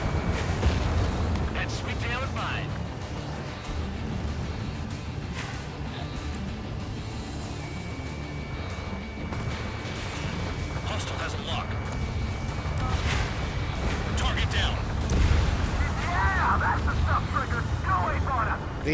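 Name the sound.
explosions and artillery fire in the video game Ace Combat 7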